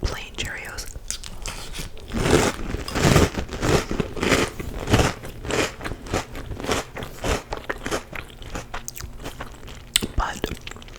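Trix cereal crunches and gets chewed close to the mic in bursts of crisp, crackly bites, interspersed with soft whispered talk.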